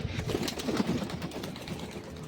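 A single pigeon sitting inside its coop gives a short, low cooing burst up close, then fades into quiet rustling.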